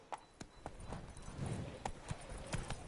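Horse Roach's hooves clip-clop in The Witcher 3: Blood and Wine, a steady, fairly close trotting rhythm of distinct hoof strikes with a faint murmur of game ambience underneath.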